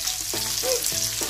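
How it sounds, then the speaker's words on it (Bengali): Onions frying in a pan for a komda baji recipe, a steady crackling sizzle with faint stirring scrapes running through the short stretch, close and moderately loud with no talk. "এটা একটু ভেজে ভেজে বাদামি কালার হয়ে যাবে পেঁয়াজটি"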